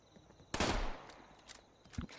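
A single loud gunshot rings out in Fallout 76 and trails off into a short echoing decay, followed by a few fainter clicks and thumps.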